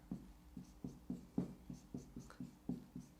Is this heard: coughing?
no